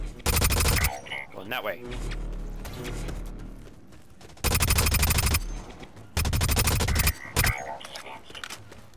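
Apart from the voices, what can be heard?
assault rifle gunfire in video game Blacklight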